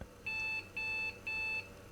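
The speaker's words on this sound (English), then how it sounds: "Oh no, it beeps." Three evenly spaced electronic beeps from an IBM PC 300GL computer on startup, each about a third of a second long, sharp and high-pitched over faint background hum.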